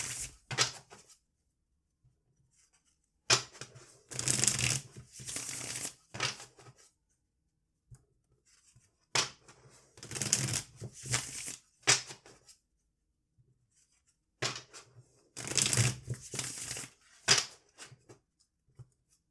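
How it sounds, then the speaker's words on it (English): A deck of Sakki-Sakki tarot cards is shuffled by hand in several crisp bursts of riffling and card slaps, each separated by brief quiet pauses, close and clear with no talking. "Sometimes folks wonder when it's time to stop shuffling"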